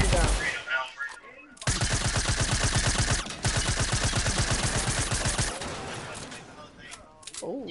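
Rapid automatic gunfire in a battle royale video game, long sustained bursts of loud close shots with brief gaps between them, plus a faint voice near the start.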